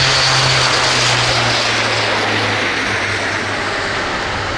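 An Airbus A400M military airlifter making a steep tactical departure at the Farnborough Airshow, its turboprop engines giving a loud, steady drone with a low propeller hum throughout, close and dominant with no talk.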